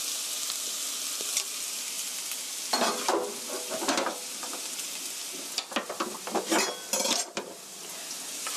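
Onion and garlic fry in a pan for fusilli with cream sauce: a constant hiss of sizzling broken by bursts of stirring, with utensils scraping and clinking against the pan, no speech.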